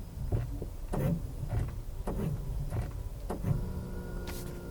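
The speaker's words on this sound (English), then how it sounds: "The brakes make an odd sound," Brakes on a 2019 Toyota RAV4 give off faint repeated mechanical clunks and whirring pulses, a quiet uneven rhythm heard up close without talking.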